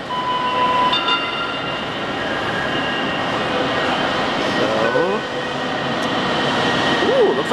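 A light-rail train pulls into Westlake Station with a loud rumble of wheels on track, brief high squeals of braking wheels and chimes, while a voice murmurs faintly nearby.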